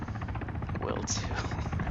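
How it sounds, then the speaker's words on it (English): Kajman attack helicopter in Arma 3 drawing closer, a steady throbbing rotor buzz with a pulsing beat that runs unbroken throughout, with a brief higher hiss midway and talk over it. "This Kajman's gonna come in now."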